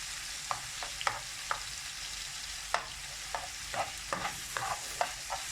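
Homemade taco filling seasoned with cumin fries in a pan, a soft steady sizzle broken by a dozen sharp scrapes and taps of stirring, close and fairly quiet with no voices.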